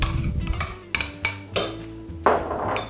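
Cream and strained yogurt being stirred in a bowl for homemade ice cream, with a handful of sharp clinks and knocks of a utensil against the dish, spaced unevenly and close by.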